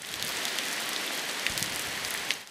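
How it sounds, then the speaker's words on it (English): Heavy rain from Superstorm Sandy pours down in Virginia Beach, a dense, steady hiss of drops on surfaces with no pauses and a few sharper splashes. "High winds and strong rain pelted the area for more than 2 days."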